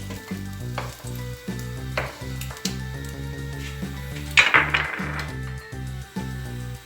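Sheep tail fat sizzles and crackles steadily on a sac pan, with occasional stirring clatter and a louder burst of spitting midway, under a steady background of tonal music.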